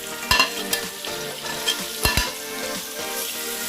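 Sliced onion frying in hot oil for chicken biryani masala, a steady close sizzle broken by scraping strokes of a spoon stirring the pan.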